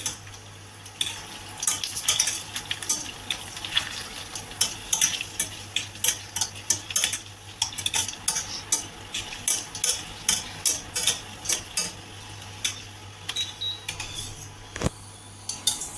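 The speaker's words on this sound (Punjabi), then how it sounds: "ਇਸ ਦੇ ਵਿੱਚ ਆਪਾਂ ਗੋਲਗੱਪੇ ਇਸ ਤਰ੍ਹਾਂ ਪਾਵਾਂਗੇ ਤੇ ਇਹਨਾਂ ਨੂੰ ਇਸ ਤਰ੍ਹਾਂ ਹਿਲਾਈ ਜਾਣਾ ਤੇਲ ਦੇ ਵਿੱਚ ਪਾ ਕੇ" Golgappe puris frying in hot oil while being stirred, a steady close sizzle broken by repeated scraping and clinking strokes of a utensil against the pan.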